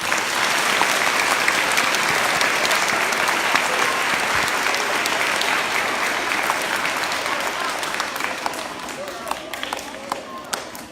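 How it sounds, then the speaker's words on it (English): Audience applause at an elementary school grand opening, thick sustained clapping that thins toward the end into scattered individual claps, with some voices mixed in. "can we give them a big round of applause?"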